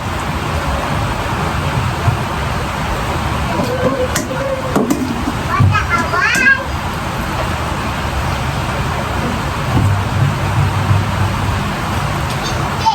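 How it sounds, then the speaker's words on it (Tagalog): Heavy rain falls steadily on Christmas Day as a constant loud wash, with a vehicle passing now and then and brief voices breaking through mid-clip. "Lakas ng ulan madlang person. Paskong Pasko na ulan."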